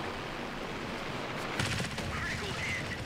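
Aircraft machine-gun fire from a Spitfire V in World of Warplanes, a short muffled rattling burst rising over a steady engine roar and wind noise.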